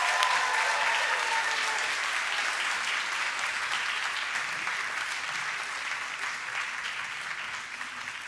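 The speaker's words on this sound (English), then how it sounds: "let's give one more round of applause to our grade 5 students today" Parents applaud grade 5 students at a school promotion ceremony, a steady, dense wash of clapping from a large crowd that holds for the whole stretch and fades only slightly toward the end.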